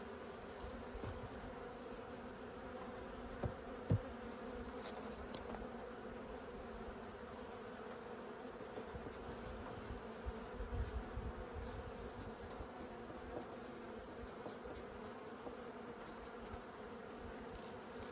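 Honey bees buzz steadily around beehives during a mite check, a dense, continuous drone of many insects close by with no talking over it.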